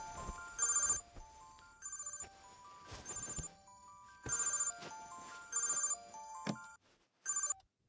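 A telephone rings with a bright electronic ringtone in a run of short, evenly spaced bursts, each about half a second long, separated by brief gaps and heard clearly with no talk.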